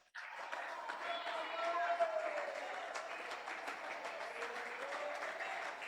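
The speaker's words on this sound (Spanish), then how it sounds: "Y ese aplauso sea para Dios" Church congregation applauding during a sermon, sustained dense clapping from a large crowd that swells briefly and then holds steady, with some voices mixed into the noise.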